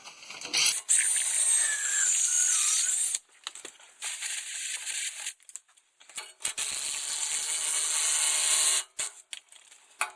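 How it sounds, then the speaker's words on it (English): A drill bores a hole deeper into the mounting during a waste oil heater install, running in several hissing, whining bursts of a few seconds each, separated by short pauses, with no speech. "Let's just drill it a little deeper."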